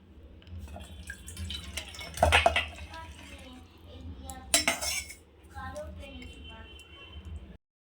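Utensils clink against a dish while soybean mutha is served: two sharp metallic clatters a couple of seconds apart, softer scrapes and taps between them, and a voice speaking quietly toward the end.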